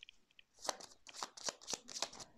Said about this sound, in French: je vais mettre des cartes sur le blocage pour voir pourquoi c'est bloqué